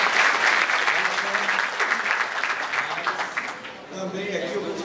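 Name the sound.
audience applause at opening ceremony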